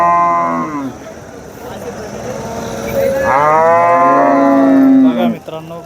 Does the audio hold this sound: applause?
no